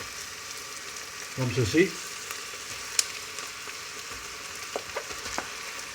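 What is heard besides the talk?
minced meat frying in a pan with onion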